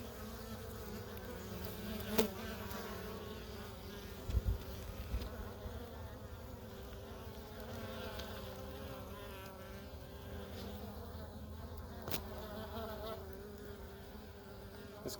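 Honeybees buzz steadily around an open hive as honey is drained during a harvest, with individual bees droning close by now and then over the constant hum of the swarm.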